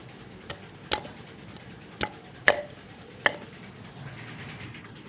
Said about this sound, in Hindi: ये इस तरीके से प्याज को कूट लेना है बारीक